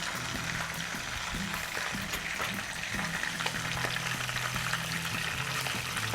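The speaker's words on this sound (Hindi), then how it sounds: "इसके 4 साइडेड से जो है हमें इसको फ्राई करना है।" Balochi tikka frying in a pan gives a steady, dense sizzle with occasional soft pops and stirring scrapes, close and even throughout.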